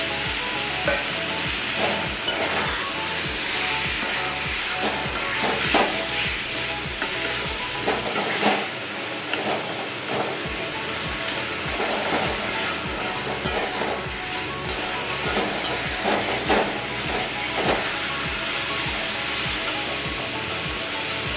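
Raw chickpeas fry and sizzle in a pan while being stirred for a Bengali vegetarian kochu saag dish. A steady, dense sizzle runs throughout, with repeated scraping stir strokes and no talking.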